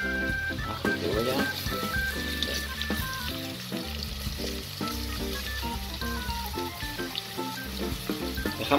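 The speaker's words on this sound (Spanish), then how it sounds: "Dejamos que sofría un poco el ajo." Garlic and onion sizzle steadily in a pan, a continuous frying hiss running throughout, with a voice speaking over it and faint clinks of utensils.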